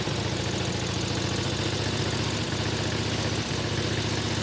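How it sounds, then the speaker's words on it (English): A 1915 Harley-Davidson Model J motorcycle engine idles roughly, its steady low throbbing close and continuous, with a couple of brief uneven stumbles in the beat. "As you can see, it's idling where this bike does not really want to idle."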